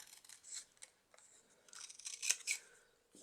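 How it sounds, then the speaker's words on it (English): Scissors snip through a piece of craft material for sea life bookmarks, a few quick close cuts in short bursts, quiet and alone without talk. "Actually, let's cut a piece."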